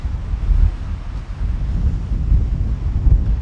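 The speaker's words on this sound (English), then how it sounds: "It's just because it was so windy." Strong wind roars and buffets against the microphone in Duluth, Minnesota, a loud, low, continuous rumble with gusty swells and no voices.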